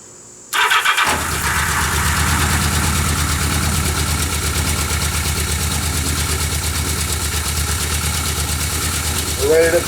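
A 1979 Yamaha XS1100 F motorcycle engine catches after its first start and settles into a steady, loud idle with an even, fast exhaust pulse that carries on throughout, with a brief rev near the end.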